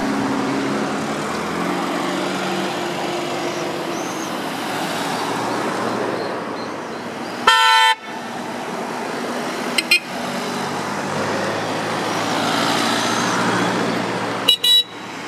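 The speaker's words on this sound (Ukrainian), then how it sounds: "автоколона з близько 40 автомобілей рушила містом" A motorcade of about forty cars drives through Kramatorsk in a commemorative rally, a steady roar of passing engines and road noise with several short horn honks and toots breaking through.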